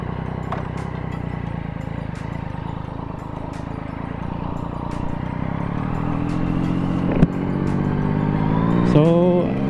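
A Yamaha MT-09 motorcycle moving off, its engine a steady low rumble that builds gradually, with a sharp knock partway and a rising rev toward the end, heard close with wind noise.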